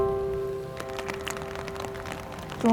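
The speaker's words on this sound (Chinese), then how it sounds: "下着小雨" Light rain patters on a tent at a riverside campsite by the Yellow River, soft scattered taps over a faint steady background hum.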